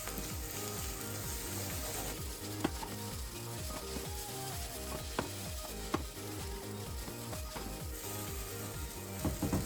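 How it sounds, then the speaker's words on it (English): Salt yakisoba noodles frying on high heat with sesame oil and Chinese leek, a steady sizzle under a rhythmic pattern of spatula scraping and tossing against the pan, with a few sharp clicks. "add sesame oil and Chinese leek for flavor and fry on high heat"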